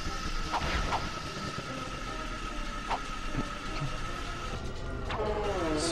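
A train from the 2002 game Ratchet & Clank rumbles past with a steady low mechanical roar, scattered clanks and a rising metallic screech near the end, loud and continuous without any speech.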